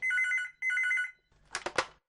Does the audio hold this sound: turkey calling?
no